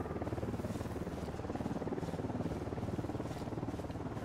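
A steady, pulsing attack helicopter rotor thrum in the video game Ghost Recon Wildlands fills the clip, a constant chopping drone at moderate distance with no talking.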